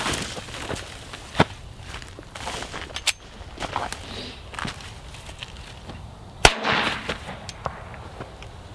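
Pistol rounds in .45 caliber fired into a Level IIIA soft body armor panel from SafeGuard Armor, giving a few sharp, loud cracks spread over several seconds with a strong report near the end, set against outdoor background noise.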